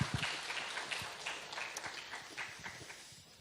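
An audience at a church conference applauds softly, a dense patter of many hands that is faint and distant in a large hall and slowly fades.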